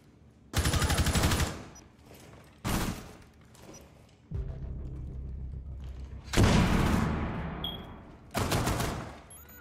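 Bursts of automatic gunfire from the tactical shooter Rainbow Six Siege, several loud sustained volleys separated by short pauses, with a heavy rumble between them.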